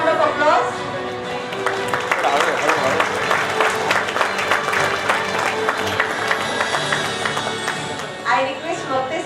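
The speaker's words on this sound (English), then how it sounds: "Please put up a big round of applause." A conference audience applauds at length, a dense patter of many hands clapping steadily for several seconds before it tapers off, with some crowd murmur mixed in.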